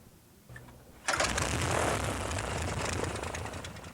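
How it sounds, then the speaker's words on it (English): A small aircraft's newly installed engine catches and settles into a steady, loud droning run after a quiet start, holding an even roar throughout. "The new engine sounds fine, so here goes."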